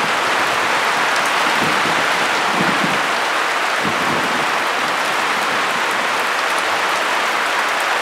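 Heavy rain pours steadily outside, a dense, loud, continuous hiss of drops hitting surfaces, with a few low thumps early on.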